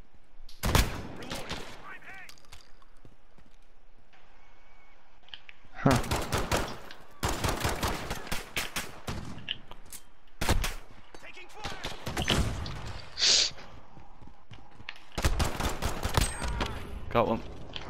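Rapid bursts of gunfire in Modern Warfare, fired from the hip in a 2v2 match, coming in several loud volleys separated by quieter gaps, with a player talking between them.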